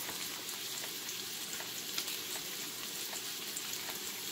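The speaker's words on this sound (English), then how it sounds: "And we're going to let them sizzle for a second." Pieces of cod frying in a pan, a steady dense crackling sizzle that runs evenly throughout without any talk.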